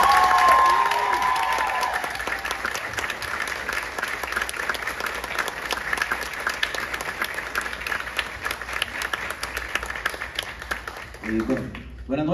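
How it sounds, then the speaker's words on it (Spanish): Audience applause at the Ernesto Alfaro festival, a dense, steady wash of clapping that carries on for about twelve seconds, with a few voices near the end. "¡Fuerte aplauso,"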